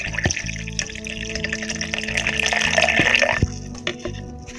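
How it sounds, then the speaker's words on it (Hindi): Water is poured into a cucumber juice mixture, a close, continuous splashing and trickling that swells toward the end, with a few sharp knocks of a container. "अब इसके अंदर हम ऐड करेंगे 4 कप जो है पानी। ये हमने इसमें पानी जो है वो ऐड कर रहे हैं।"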